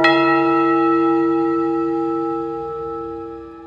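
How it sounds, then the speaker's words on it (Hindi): A single loud strike of a large clock tower bell rings out with a rich, sustained hum that slowly decays, alone in the mix. "तभी अचानक एक बड़े घंटाघर के घंटे जैसी तेज आवाज हुई"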